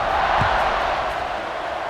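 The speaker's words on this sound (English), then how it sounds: "this crowd is buzzing after that last score" Stadium crowd in the College Football 26 video game, a steady loud roar and murmur of many voices filling the space after a score, continuous and broad with no single voice standing out.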